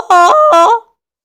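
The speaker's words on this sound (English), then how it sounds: "So that is what a voice crack sounds like" Voice crack demonstrated aloud: two short, loud voiced bursts whose pitch jumps abruptly, close to the microphone, followed by silence.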